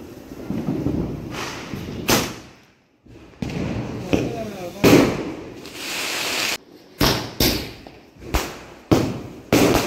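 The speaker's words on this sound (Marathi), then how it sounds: "आपले फटाके फोडणं चालूच आहे" Diwali firecrackers bursting outdoors at a family celebration: a series of sharp loud bangs at irregular intervals, several close together near the end, with people talking between blasts.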